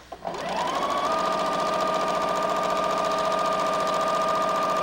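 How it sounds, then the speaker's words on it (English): A sewing machine stitches hexagon fabric pieces together for a Hawaiian-style quilt, running in one steady, continuous whirring burst from a quick start to the end, close and clear with no talking. "Hold these edges together, and we're going to sew all the way to the edge."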